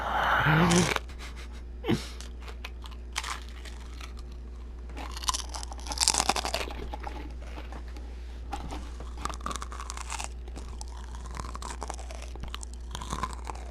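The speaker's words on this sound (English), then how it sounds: "Here's some eating ASMR for you. It's going to be a bit crunchy." Crunchy eating sounds from a character in a Fallout 4 Commonwealth settlement, heard as a loud burst at the start, then scattered crunches, chews and bites with light game ambience between them.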